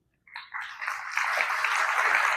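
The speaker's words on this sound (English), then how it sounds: "Another round of applause for Megan Guerrero." Audience applause at a school district regional meeting, starting abruptly and building into a steady, dense clapping that holds at full strength to the end.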